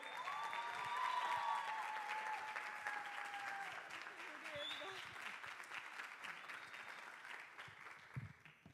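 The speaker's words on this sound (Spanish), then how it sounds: "Solcito, un aplauso." Church congregation at a youth service applauding a woman invited to the front, steady clapping that lasts the whole stretch with a faint voice and some tonal sounds underneath.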